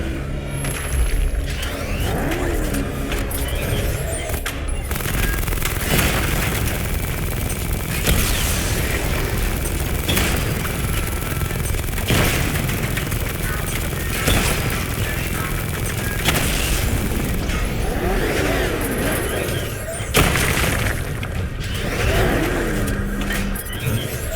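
Weapon fire and explosive hits pound away at targets in Batman Arkham Knight, a dense, continuous barrage of booms and blasts running throughout at steady loudness.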